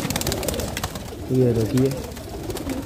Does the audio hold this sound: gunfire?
no